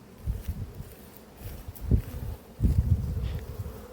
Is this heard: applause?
no